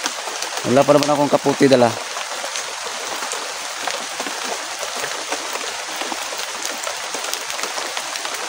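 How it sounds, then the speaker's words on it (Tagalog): Heavy rain pours down steadily as a dense, continuous hiss that fills the whole stretch, with someone speaking briefly near the start. "hindi na ambon to, ulan na talaga to"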